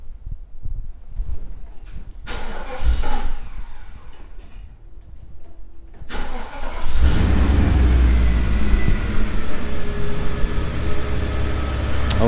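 A 1980s Mercedes-Benz engine cranks, catches and roars up in a loud rev, then settles into a strong, steady run close by, with no talk over it.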